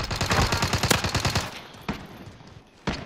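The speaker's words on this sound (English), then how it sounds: "The other one's trying to shoot me now." Rapid automatic gunfire in the video game Warzone, a loud fast burst of shots followed by a couple of isolated single shots with quiet gaps between.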